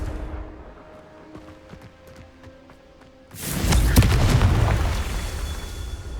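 A Confringo fire-blast spell bursts in Hogwarts Legacy, a single heavy boom that erupts suddenly after a quiet stretch and rumbles on loudly for several seconds.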